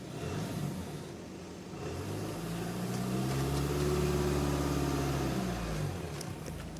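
A 2012 Skoda Laura TDI diesel idles, then its engine is revved up into a rising, sustained roar that holds for a few seconds and settles back down, close and loud.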